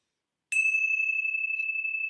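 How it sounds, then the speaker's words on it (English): Meditation bell rung once at a spirituality session, a single bright strike followed by a clear sustained ringing tone that holds steady, alone in silence. "I'm going to close with the ringing of the bells."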